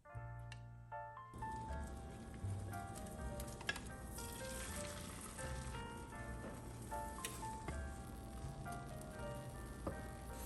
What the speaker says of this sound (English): I'm gonna cook some eggs real quick.